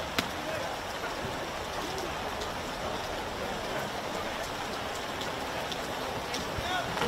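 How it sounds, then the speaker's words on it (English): Heavy rain pours over an outdoor football match at the Moreton Bay Sports Complex, a steady, even hiss with scattered drips that runs through the whole stretch without a break. "Yeah, that rain really coming down now."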